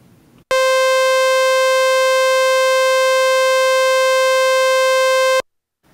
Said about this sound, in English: it creates a sawtooth wave that looks like the teeth of a saw